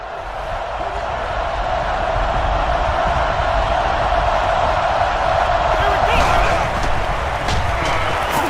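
A stadium crowd roars steadily throughout a Madden NFL 11 football game on Xbox 360, loud and continuous. Broadband cheering swells slightly near the end, with brief sharp accents over it.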